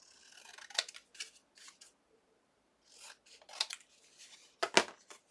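Scissors snip through paper napkin cut-aparts, several short crisp cuts in small clusters separated by silence, close and fairly quiet with no talk.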